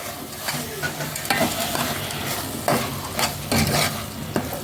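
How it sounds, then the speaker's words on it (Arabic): Washed white rice is stirred into a meatless vegetable filling for zucchini mahshi in a pot, with a soft ongoing sizzle broken by repeated close scrapes and knocks of the spoon. "3 معالق كبار من الرز الابيض العادي، وهبتدي انزل كده واقلبهم مع بعض."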